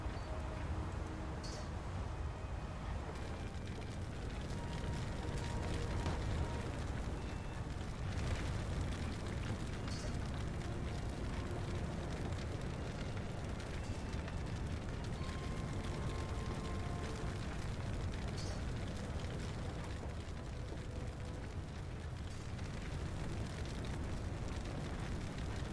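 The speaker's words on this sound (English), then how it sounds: "But now I have to permanently listen to that fire sound effect." A continuous crackling, roaring fire effect from a burning German cruiser in a naval video game runs steadily throughout, dense and rumbling with small pops scattered across it, and no speech is heard.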